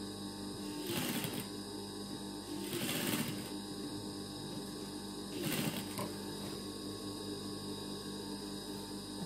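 A sewing machine stitching a garment sleeve: three short bursts of close stitching over a constant electrical hum, with quiet gaps between them.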